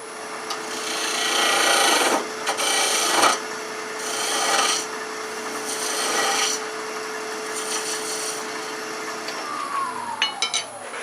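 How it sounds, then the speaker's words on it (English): A wood lathe hums steadily while a spindle gouge cuts a 45-degree chamfer in repeated rasping bursts, each scraping pass lasting a second or two, then the cutting fades out. "we're just going to make a little chamfer cut, and I'm going to do that with a spindle gouge"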